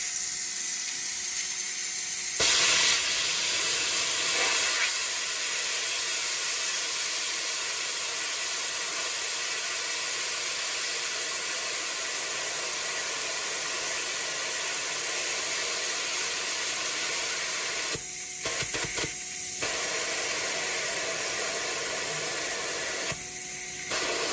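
A pressure cooker on ultra-fast steam release gives a loud, continuous close hiss that runs unbroken for over twenty seconds, with only brief dips near the end.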